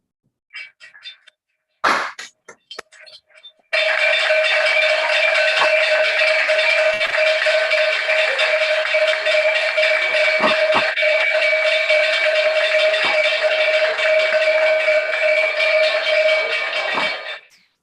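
A few brief knocks, then a loud electric bell rings continuously for about fourteen seconds before stopping: the closing gong of the Nigerian Exchange (NGX).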